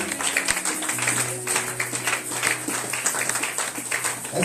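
A church congregation applauds the Lord during a French-language service, with sustained dense clapping and some cheering, steady and fairly loud throughout, with no talk over it.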